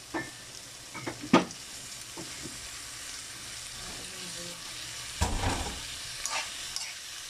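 Bean sprouts stir-fried with tofu in a pan: a steady sizzle under scraping stirs, with a loud clatter of utensil on pan near the start and another burst of tossing later, close by and without talk.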